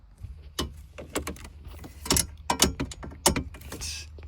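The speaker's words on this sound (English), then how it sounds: "what you need is your ratchet or automatic ratchet with your 7mm" Ratchet work on a 7mm bolt inside a 2021 Ford F-150 XLT during a dash screen install, heard as a series of short sharp clicks and clacks at close range, in uneven bursts with quiet gaps between them.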